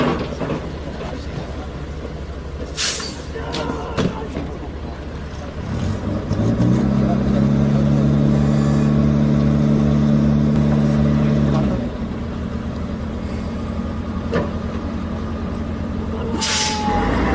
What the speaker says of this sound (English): You will now see the Bofors gun towed by a tow truck called the Scania.